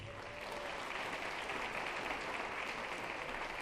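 An audience at an employee recognition ceremony applauds, a steady, dense wash of many hands clapping throughout.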